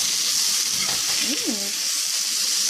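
Eggplant with thyme is stirred in a frying pan under a loud, constant sizzle, with scraping touches and a brief tonal sound partway through.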